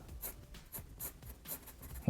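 A pencil or pen draws lines on paper in a series of soft scratchy strokes, each roughly a quarter to half second long in a steady rhythm, close and fairly quiet.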